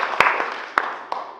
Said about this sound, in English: Just give a big round of applause for Susan